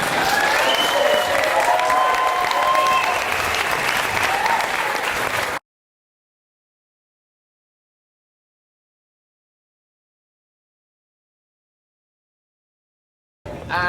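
An audience applauds loudly for several seconds, then the sound cuts to silence before clapping briefly resumes at the end.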